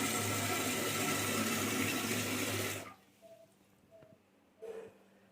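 Water gushes strongly from an opened bathroom tap on a newly installed water tank, a loud steady rush that stops abruptly partway through. A few faint clicks and knocks follow in the quiet.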